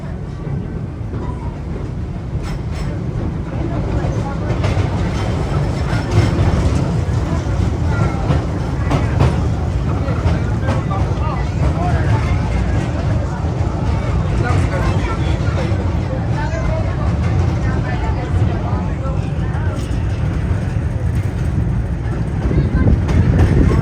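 A roller coaster train at Busch Gardens Williamsburg runs along its track, giving a steady, loud rumble and rattling clatter that lasts throughout, with background voices and crowd babble mixed in.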